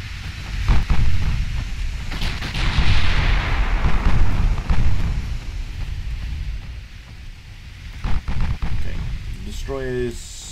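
Heavy 15-inch naval guns boom in Ultimate Admiral Dreadnoughts, a series of deep, rumbling salvos and impacts rolling over a steady roar of wind and sea, with a voice briefly audible near the end.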